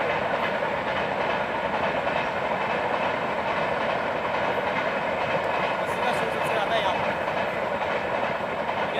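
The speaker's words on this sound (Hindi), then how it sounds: "एक ही चीज़ की ज़्यादा शोर है, रेलवे, कोकण रेलवे" A Konkan Railway train rumbles past a quiet village in the Konkan region of India with a continuous, loud clatter of wheels on the rails. The noise stays steady and close for the whole stretch.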